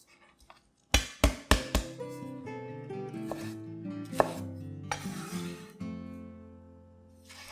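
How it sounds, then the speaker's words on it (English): A knife chops a stalk of spring onions on a cutting board: a few quick sharp strikes in a row, then scattered knocks and clatter under faint background music, close and moderately loud. "Next, cut up a stalk of spring onions."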